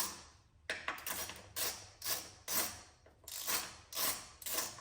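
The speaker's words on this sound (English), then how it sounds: "we will be taking our 12mm, cracking these two bolts completely loose" A 12mm wrench working bolts loose on the blow-off valve of a Subaru WRX, a series of quiet metallic ratcheting clicks in an uneven rhythm, close up and with no talk.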